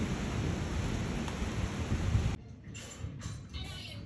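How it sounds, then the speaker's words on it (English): Heavy rain pours steadily while distant thunder rolls low during a garden storm, then the downpour drops away into a quieter patter with scattered drops for the last couple of seconds. "Do you hear the thunder? And the thunder rolls, but no lightning strike."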